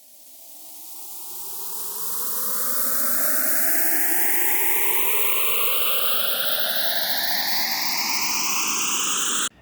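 A hissing noise riser swells in volume and climbs steadily in pitch, with swirling phaser notches sweeping upward, ending in an abrupt cutoff.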